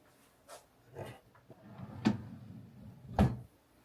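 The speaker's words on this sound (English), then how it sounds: "And the drawer actually closes." A bedroom drawer packed with six Stanley cups slides shut, giving a few soft thumps and knocks close by, the last one the firmest, with no talking.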